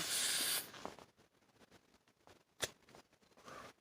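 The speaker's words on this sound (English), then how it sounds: "Start spraying butane on yourself?" Butane hissing out of a can in a short, steady spray that cuts off abruptly, followed by faint handling noises and a sharp click.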